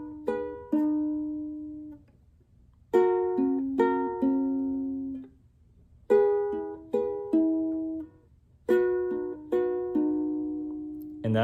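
A ukulele picks a fingerstyle pattern for a song, with repeated plucked note groups on each chord that ring and decay, four phrases in a steady rhythm, close and clear without talking.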